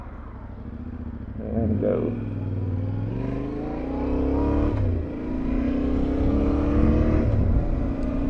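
2023 Yamaha Tenere 700 motorcycle pulls away and accelerates, its engine note rising steadily and loud up close, with a voice speaking briefly over it.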